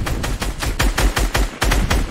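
Video-game gunfire in a match, a run of sharp shots in quick bursts with brief gaps, loud and close throughout.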